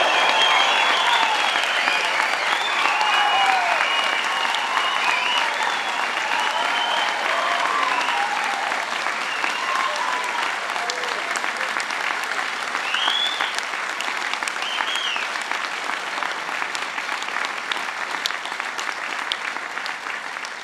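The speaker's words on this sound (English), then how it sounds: "let's a huge cheer for those who've graduated today from family and friends." Family and friends in a large hall at a university graduation ceremony for the Faculty of Health break into loud, sustained applause and cheering that carries on steadily for about twenty seconds and fades slightly toward the end.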